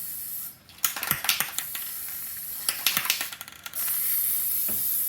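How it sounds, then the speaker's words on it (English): An aerosol spray paint can blasts out pressurized gas with no paint coming out, giving several short hissing bursts and one longer steady hiss, loud and close with no talking. "Where pressure will come out, but paint won't."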